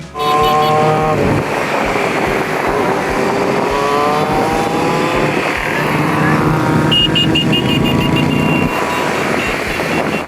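Loud motorcycle engines roar continuously during a motorcycle rally on city streets, several machines revving and droning together with shifting pitch, close by and steady throughout.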